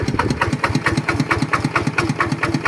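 A Kubota TF115 LM small engine idles without an exhaust pipe, with a rapid, uneven chugging and rattling exhaust beat, loud and close, running continuously without pause.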